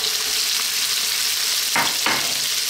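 Onions sizzle vigorously in a hot pan for a chicken potato curry, a loud, dense frying hiss with two brief scraping stirs close together near the end.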